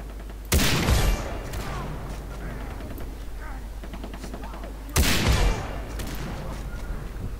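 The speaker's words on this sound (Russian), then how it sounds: "Я, по-моему, уже в труп стреляю." Gunfire in the co-op multiplayer video game Far Cry 3, with two loud bursts of shots several seconds apart over a steady game background, and players chatting throughout.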